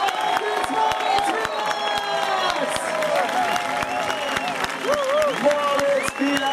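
Spectators applaud and cheer at the finish of an elite men's Bundesliga mountain bike race in Bad Säckingen, steady dense clapping filling the scene while an announcer's voice carries over it.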